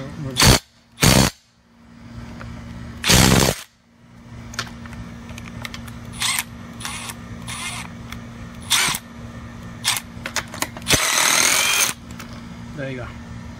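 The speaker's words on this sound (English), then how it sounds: "we're going to undo the bolt" A Milwaukee M12 brushless impact driver set to reverse undoes a bolt, firing in short, loud bursts, with a longer hammering run near the end amid quieter handling clicks.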